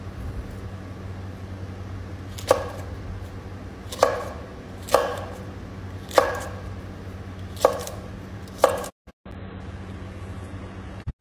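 Okra cut to size with a knife on a board, six evenly spaced sharp chops about a second apart over a low steady background hum, then a brief cutout.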